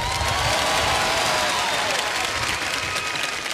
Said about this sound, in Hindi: इस बात पे तालियां बज जाएं तो अच्छा लगेगा